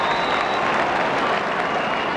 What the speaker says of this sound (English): Sympathetic round of applause.